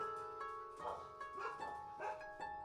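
Dogs excitedly barking at something at the door, several quick barks in bursts about every half second, fairly faint and set against a steady tonal background hum.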